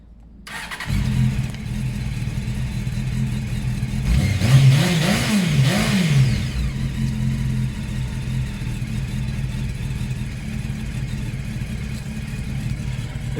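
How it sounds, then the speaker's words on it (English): A Honda Hornet CB600 motorcycle with its original exhaust starts up and settles into a smooth, steady idle, with a quick pair of revs rising and falling early on, heard close and alone. "It sounds really nice. That's the original exhaust."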